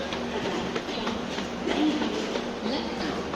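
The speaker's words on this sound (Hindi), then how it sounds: "अभी हम लोग निकल रहे हैं नई दिल्ली स्टेशन के प्लेटफॉर्म नंबर 9 से" Inside a coach of the Lucknow Swarna Shatabdi Express as it pulls out of New Delhi station, a steady rumble of rolling wheels and rail clatter carries on throughout at moderate loudness.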